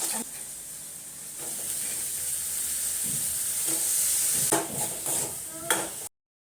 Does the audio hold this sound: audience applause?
no